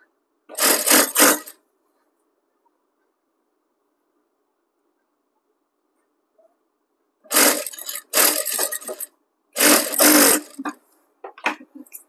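A sewing machine stitching a blouse runs in short bursts: one brief run near the start, a long silence, then several quick runs close together near the end, each a close, buzzy mechanical whir.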